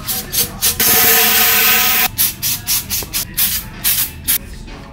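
Cloth rubs and wipes briskly over the outer fork leg of a WP AER motorcycle fork during a seal rebuild, in short repeated strokes with one longer continuous swipe early on, close and fairly loud.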